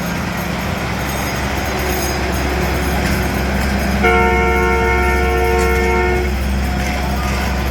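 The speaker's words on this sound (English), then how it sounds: "I think it's the train" A train rumbles past close by in San Antonio, Texas, with a steady roar, and partway through a loud multi-tone horn blares for a couple of seconds.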